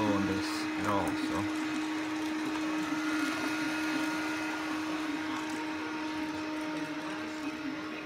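A Samsung Powerbot robotic vacuum drives onto a thicker rug, its motor and brushes whirring in a steady, fairly close drone with a faint voice in the background.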